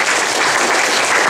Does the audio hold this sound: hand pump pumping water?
no